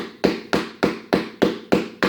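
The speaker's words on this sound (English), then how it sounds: "let's hit it with a hammer and see what happens" A hammer strikes a hard plastic pot for an animatronic plant skull urn, seven sharp, evenly spaced knocks in quick succession, each ringing briefly before the next, close and fairly loud.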